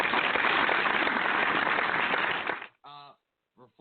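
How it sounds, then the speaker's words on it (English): Radio show participants break into dense clapping and cheering for about two and a half seconds, loud and close, then it cuts off and brief talk follows. "Let's applaud once again."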